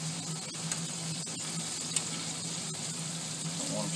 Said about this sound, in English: Deep fried mullet backbone